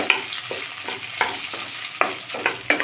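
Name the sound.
stirring chopped tomatoes frying in a pan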